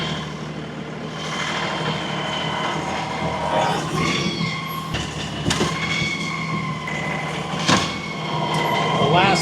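A 35 horsepower LS tractor engine works nearby, a steady rumbling drone with rising and falling revs and metallic clanks while hauling logs, as someone talks over it.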